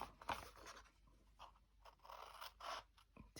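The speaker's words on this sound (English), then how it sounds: "take our little scissors and we're going to cut up here" Small craft scissors snipping a paper gift bag, a quiet series of close, crisp cuts with short pauses between them and no talking.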